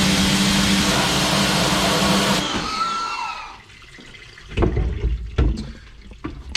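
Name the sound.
rinsing a silkscreen printing screen with water spray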